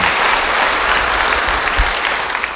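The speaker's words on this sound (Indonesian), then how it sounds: "Tepuk tangan yang baik buat dia." A congregation applauds during a church sermon, a loud, dense burst of clapping that stays steady for a couple of seconds before starting to fade, with no talking over it.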